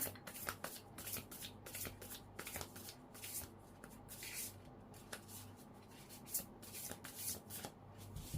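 Haru oracle cards being shuffled by hand, a steady run of soft riffling and sliding card noise close by, with no talk over it.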